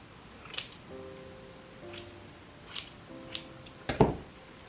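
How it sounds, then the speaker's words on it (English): Scissors cut ribbon for a handmade Easter wreath bow, heard as several quiet, close snips spaced a second or so apart, ending with a sharper final cut and no talk. "I'm just gonna cut it off so it's equal length"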